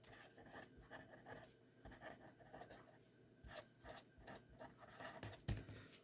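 A pen writes on a sheet of paper, giving faint, continuous scratching strokes with small taps. It is very quiet and close, with no voices.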